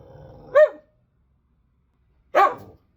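Kenji the dog lets out two sharp, loud barks about two seconds apart, close by, with a faint low hum before the first.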